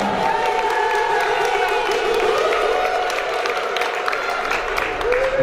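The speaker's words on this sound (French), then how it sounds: "Applaudissez d'abord pour vous" Audience applause at a French-language live event, steady dense clapping mixed with crowd cheering and a few whoops, sustained and fairly loud throughout.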